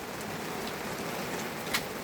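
Steady rain falls on an awning during a downpour, a dense, even patter that stays constant throughout with no voices.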